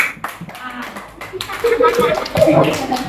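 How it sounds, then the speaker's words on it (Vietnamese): Students clap in a round of applause, scattered claps at first that grow louder and denser midway, with cheering voices and chatter mixed in. "cho tràng pháo tay thật to nè"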